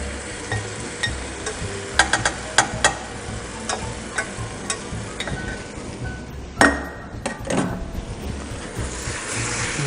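Curry sauce being stirred into vegetables in a pot for a West Indian vegetable curry, with irregular spoon knocks and scrapes against the pot over a low simmering sizzle.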